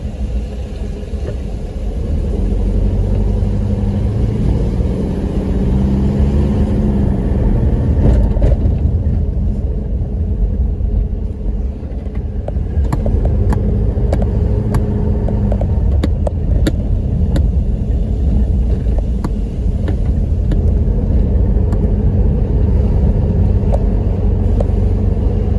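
A heavy truck engine rumbles steadily through a road junction, a loud continuous low drone with traffic noise around it, holding level throughout with no talk.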